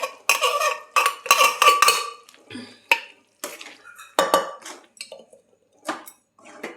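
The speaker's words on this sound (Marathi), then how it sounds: "आता छान परतून घ्यायचे मसाल्यात" Boiled chickpeas stirred into masala in a pan for a dhaba-style chole dish, heard as close, bursty clanks and scrapes of a spoon against the metal pan with short pauses between strokes and only a faint sizzle.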